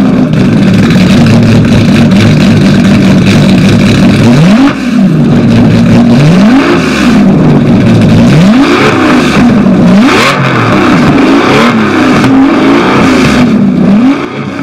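A powerful 6-litre V12 sports car engine from 2011 revs repeatedly, its pitch climbing and falling in rhythmic waves, loud and close throughout.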